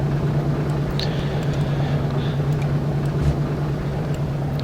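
The engines of a B-17 Flying Fortress bomber drone in a steady, loud, low hum as it taxis, with a constant rumbling tone and faint higher whooshes over it.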